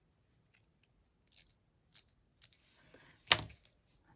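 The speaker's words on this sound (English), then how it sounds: "you would just cut like a little snip" Scissors snipping fabric in several short, separate cuts, then one louder, longer slicing cut, all close and quiet with silence between snips.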